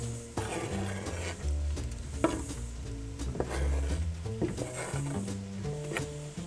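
Shiitake mushrooms go into carrots frying in olive oil in a pot: continuous close sizzling under scraping and stirring, with several clunks of a utensil against the pot.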